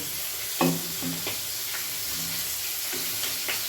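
Snakehead fish frying in hot oil, a steady hissing sizzle with several sharp spatters and occasional stirring clinks, close and fairly loud, no talking.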